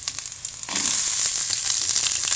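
Onions with ginger sautéing in a pan, a loud close hiss of frying that swells after a brief quieter start and then holds steady, with faint stirring, no voices.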